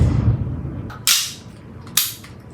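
Two sharp, close pops from an Umarex CO2 air pistol firing 4.5mm steel BBs, about a second apart, after a low rumble fades.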